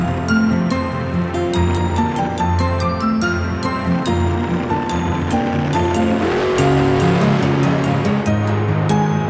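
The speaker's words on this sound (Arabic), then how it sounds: "سيارات سباق." Cartoon-style race car sounds from a children's toy car show play loudly and continuously, with revving tones, sharp clicks and a rushing, wave-like wash building toward the end.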